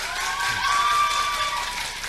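Church congregation applauding during a Korean summer harvest thanksgiving worship service, a steady wash of clapping lasting a couple of seconds with a faint sustained tone above it.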